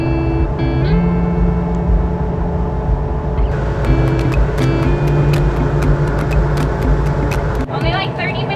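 A boat engine drones loudly and steadily while cruising, a continuous mechanical roar with tonal hum, as voices talk over it.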